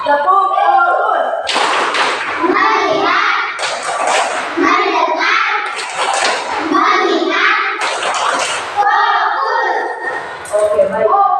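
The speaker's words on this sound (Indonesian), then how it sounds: "kita tepuk terbaik dulu" A classroom of children claps in rhythm, with sharp bursts of hand claps falling in a patterned beat while young voices chant loudly along with them.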